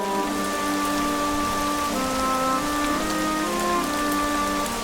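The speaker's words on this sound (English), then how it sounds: "It's a wet and rainy day in Springland." Steady, dense rainfall in an animated children's cartoon, a constant wash of drops pattering on surfaces under a soft musical tone, with no voices.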